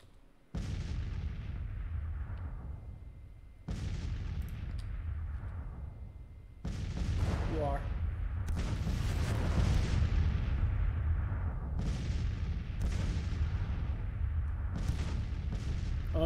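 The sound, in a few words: artillery cannon fire from Grand Tactician: The Civil War video game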